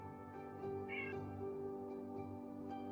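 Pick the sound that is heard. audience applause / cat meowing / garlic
cat meowing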